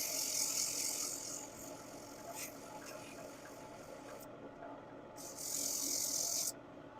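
Light sanding of turned wood spinning on a lathe, a steady close rasping hiss in two bursts with a quieter stretch between, over a low motor hum.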